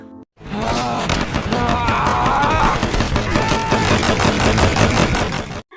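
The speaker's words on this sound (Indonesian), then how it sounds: "Sersan Howell mengcover Desmond dari serangan tentara Jepang yang mencoba menembak mereka." Rapid gunfire and explosions crackle densely through a war film battle scene with Japanese soldiers attacking, a loud continuous barrage of overlapping shots and blasts lasting several seconds.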